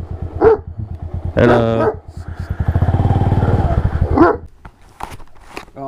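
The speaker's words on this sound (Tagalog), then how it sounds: "Ang lalaki ng aso dito. Ayan ang mga Great Dane." Great Dane dogs give deep, loud barks in separate bursts, heard over a steadily idling motorcycle engine in Bailen, Cavite, with someone briefly speaking.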